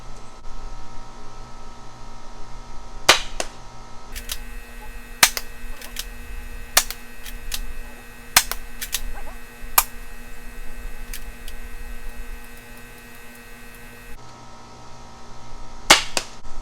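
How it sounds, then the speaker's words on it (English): Adventure Force Deuce Pro toy blaster firing darts at a whiteboard target from 30 feet, a series of sharp separate snaps spread unevenly over a low steady hum, with no talking. "I'm going to go through all 3 cylinders and we'll see how many shots out of 18 actually hit the target."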